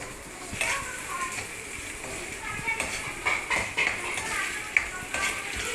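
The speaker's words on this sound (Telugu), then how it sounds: "ఈ ఉల్లిపాయలు ఫ్రై అవ్వనిద్దామండి" Onions and green chillies frying in a pan for curry leaf chicken pulao, a moderate sizzle with intermittent stirring clatters, and voices talking over it.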